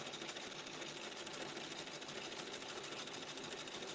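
A Brother embroidery machine runs with its needle plate cover jumping, producing a fast, even mechanical chatter that is steady and fairly faint, with no voices.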